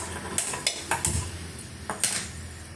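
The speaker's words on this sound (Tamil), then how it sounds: "இப்போ அது ஒரே கடாய் ஒன்று வச்சுக்கிட்டுங்க இப்போ ஸ்டவ் ஆன் பண்ணிக்கலாம்" A kadai pan set down on a stovetop with a few sharp metallic clanks and knocks, close and fairly quiet, spaced through a short quiet stretch with no talking.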